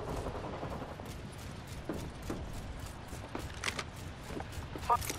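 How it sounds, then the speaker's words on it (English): Enemies fire guns in Apex Legends: quick, fairly faint shots and short rapid bursts crack at irregular intervals from a moderate distance, with the sharpest report near the end. "The enemies are shooting at me."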